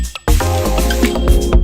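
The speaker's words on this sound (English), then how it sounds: "This is actually a fun kind of housey tune that I started" A house-style electronic tune, a work-in-progress production, plays back loud and dense, with layered synth chords and punchy low kick hits recurring through the short excerpt.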